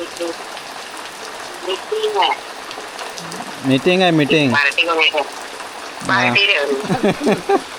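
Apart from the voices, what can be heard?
rain falling during monsoon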